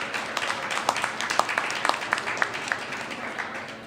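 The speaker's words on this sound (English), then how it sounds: "Yes, a round of applause, please." Audience applause at a community proclamation event in Edmonton rises as a fairly soft, steady patter of many hands, with a few sharper individual claps standing out.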